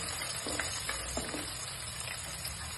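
Sliced onions fry in hot oil in a pan, giving a steady, close sizzle with a few soft stirring scrapes over the hiss and no voices.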